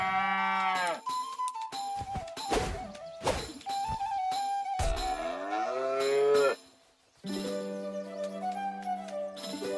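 Cartoon cows in a South Park video game moo repeatedly, long drawn-out lowing calls overlapping one another, loud and close, with brief sharp impacts between them and a short lull near the end before more mooing.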